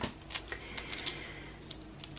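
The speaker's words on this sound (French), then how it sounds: "On va taper ça là-dedans." Sparse, irregular keystrokes on a computer keyboard entering an amount, a handful of light clicks spread over two seconds against a quiet background.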